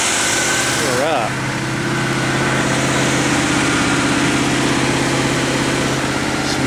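A 1987 Pontiac engine runs in a steady, loud idle with a constant low hum and a faint vibration, while a person talks over it.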